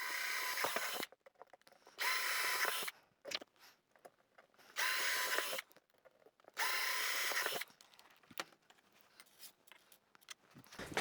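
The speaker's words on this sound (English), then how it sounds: "So now I'm going to drill holes for the screws that are going to need to go in here." A power drill bores screw holes for a Tortoise switch machine on a model railway layout, in four separate whirring bursts of about a second each, close and alone, with quiet handling noises between.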